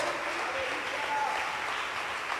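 A church congregation claps their hands in praise at a Spanish-language service, a steady dense wash of clapping that fills the room for the whole stretch with no pause.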